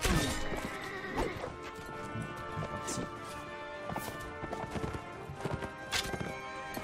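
Horses in the Mount & Blade Warband video game, with clattering hooves, a whinny and sharp crashing impacts from battle over a dense, busy mix, while someone talks in French.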